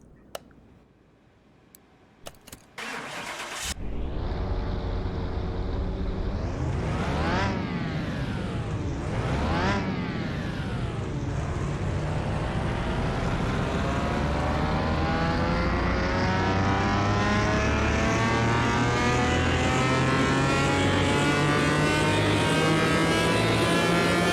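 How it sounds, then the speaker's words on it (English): A few clicks, then a Lamborghini engine in the video game Car Mechanic Simulator 2021 roars up loudly on a dyno, revving hard and climbing in pitch, holding a sustained high, strained drone. "I was just waiting for the engine noise to stop"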